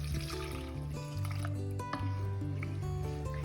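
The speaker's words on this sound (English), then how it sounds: "we've added in our 2 cups of milk" Room-temperature milk poured into a pan of cheddar cheese soup, a soft liquid trickle and splash with gentle drips, fairly faint, over a low steady hum.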